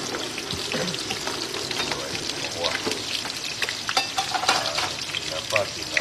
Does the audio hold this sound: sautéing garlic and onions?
yes